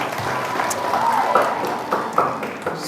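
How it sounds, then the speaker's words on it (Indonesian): A crowd claps in response to a call to applaud a guest at a Bugis-language religious lecture. The clapping forms a moderate, steady wash for a few seconds, with a voice and scattered sharper taps heard over it. "Tepuk tangan untuk beliau"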